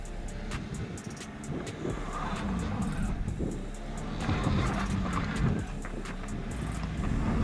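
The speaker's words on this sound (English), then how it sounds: "The unloaded wheels are spinning a little more actively" A Volkswagen Tiguan with ESP and traction control switched off works its engine off-road while the unloaded wheels spin, giving a continuous, moderately loud rumble with rising and falling revs and scattered scrabbling noises.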